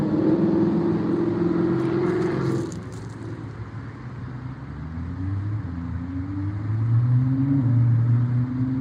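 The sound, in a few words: Lamborghini car engine revving in a video game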